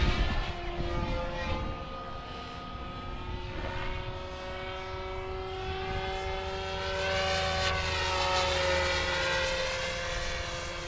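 A Goblin 500 RC helicopter flies with a continuous whining rotor and motor drone, its pitch shifting as it maneuvers, moderately loud and steady throughout with no voices.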